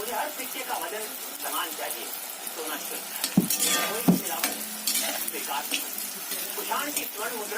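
Khurma dough pieces sizzling in very hot oil at home, a steady frying hiss with occasional stirring and utensil clinks close by.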